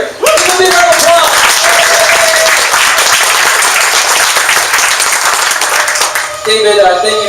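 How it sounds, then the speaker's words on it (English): Sustained audience applause fills a business launch event in San Jose as a guest is called up on stage, loud and dense throughout, with a voice emerging as the clapping fades near the end. "Give him a big round of applause."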